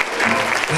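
A church congregation clapping hands, dense, loud applause filling a short burst, with voices faintly mixed in.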